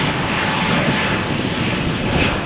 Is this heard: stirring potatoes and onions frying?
no